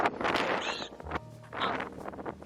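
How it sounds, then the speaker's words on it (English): Gusty wind near the Golden Gate Bridge in San Francisco buffets the microphone in heavy bursts, with a roaring rush that rises and falls across the clip. "Looking up towards the Golden Gate Bridge, and it's so windy."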